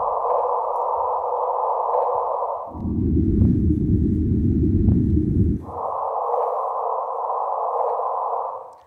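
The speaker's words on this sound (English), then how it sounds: "what you're going to hear is the background noise of the detectors plus the sound of 230 solar mass black holes colliding" Gravitational-wave detector data from two colliding black holes of about 230 solar masses, rendered as sound: steady loud tonal hum that drops to a dense low rumble midway, then returns to the higher tone.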